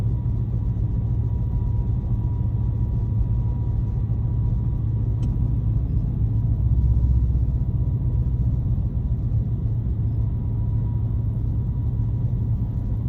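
Ford Coyote V8 swapped into a Foxbody Mustang, heard from inside the insulated cabin while driving, a steady low engine and road rumble holding constant throughout.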